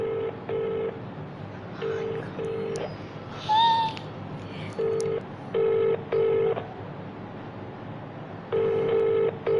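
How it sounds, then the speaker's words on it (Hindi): A phone call placed on speakerphone: bursts of dialing tones followed by repeated ringback pulses, loud and close, with a brief warbling tone midway and no talk. "कॉल मैं अपने फ़ोन से करूँगी"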